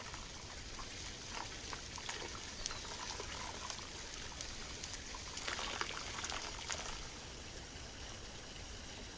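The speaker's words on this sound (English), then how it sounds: "Next, I'm pouring hot water over the duck." Hot water poured over a whole duck during outdoor wilderness cooking, a faint continuous trickle and splatter with soft drips, quiet and steady with no talk.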